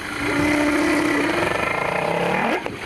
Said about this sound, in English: She's going to put the hydrophone down into the water here, and we're going to see if we can hear the whales calling.